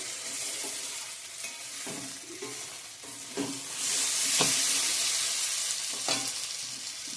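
Mushrooms sauté in oil in a pan with a loud, steady sizzle and hiss, punctuated by repeated scraping stirs of a spatula; the frying swells in the second half, and no one talks.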